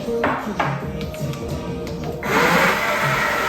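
A weak countertop blender running on water, cocoa powder, banana, strawberry and spinach: light taps and clinks at first, then the motor whirs up louder near the end, close by.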